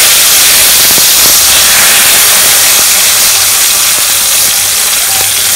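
Bay leaves dropped into hot mustard oil left from frying fish, for a Bengal-style moong dal with fish head, sizzle in a steady loud broadband hiss that runs unbroken throughout, with a low rumble beneath.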